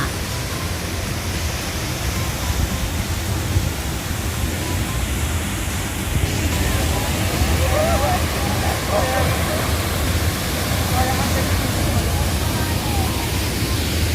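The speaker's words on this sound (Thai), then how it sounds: "ฟังเสียงน้ำตกซัดซ่า" Loud, continuous roar of Haew Suwat Waterfall in Khao Yai National Park, Thailand, a dense rushing wash of water that fills the whole scene without letting up.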